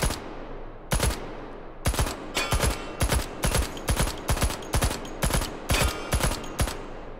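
Paired shots from a UMP submachine gun on two-round burst in the VR shooter Hot Dogs, Horseshoes & Hand Grenades, loud sharp cracks repeating in quick doubles roughly a dozen times, with short echoing tails between them.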